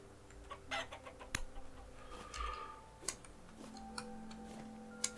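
Broody chickens clucking in Vintage Story, soft, scattered clucks and clicks heard faintly at a distance against a quiet background.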